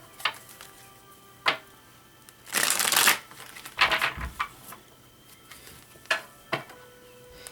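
Tarot cards are shuffled in a few quick, papery riffling bursts, with single soft card snaps in between, close and fairly quiet, and no talking.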